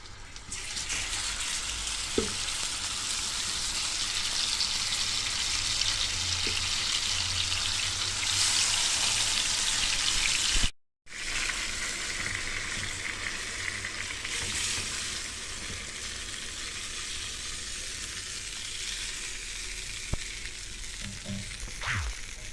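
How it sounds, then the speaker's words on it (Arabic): Vegetables sauté in ghee in a frying pan on a home stove, giving a continuous close sizzle and crackle with occasional stirring clinks and one brief break. "نشوحهم شويه وبعد كده نحط عليهم الخضار بتاعنا"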